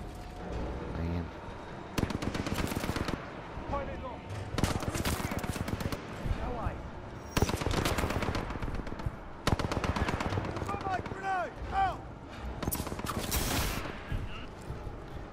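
Titanfall 2 game gunfire: repeated bursts of loud rapid automatic fire in clusters, with gaps between volleys, close and dominant, amid other game effects.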